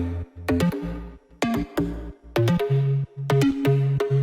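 Serum synth patch from a song remake made in Ableton, playing a rhythmic sequence of bright plucked chord stabs over a deep sustained bass, loud and alone with short gaps between phrases.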